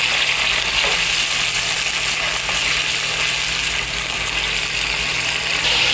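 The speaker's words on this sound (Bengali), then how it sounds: "তখন মশলাটাকে আমি ভালো করে কষিয়ে নেব।" Masala and onion paste fry in a pan, producing a loud, steady sizzling hiss throughout.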